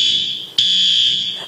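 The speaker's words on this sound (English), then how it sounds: "Fire alarm's going off or something." Fire alarm going off in a TV news studio, a loud, piercing electronic tone that sounds steadily, breaks off briefly with a click, then resumes at full strength.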